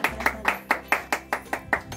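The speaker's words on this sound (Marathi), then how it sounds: "टाळ्या टाळ्या टाळ्या टाळ्या टाळ्या" Clapping at an outdoor vegetarian party on a hilltop plateau, about nine sharp, evenly spaced claps at a brisk steady rhythm, close and clear over a low background hum.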